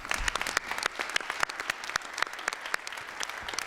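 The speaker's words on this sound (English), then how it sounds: "we need to give them another round of applause." An audience at a school advisory board meeting applauds with steady, moderately loud clapping throughout, its many hands blending into a continuous rattle.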